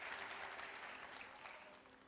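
Congregation applause inside a church, a soft, even patter of many hands that gradually fades, heard at a distance with no speech over it.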